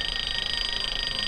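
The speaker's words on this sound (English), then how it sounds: "You can silence the alarm simply by touching the pan." A kitchen timer app on a tablet sounds a steady, continuous high-pitched electronic alarm tone at close range, with no talking over it.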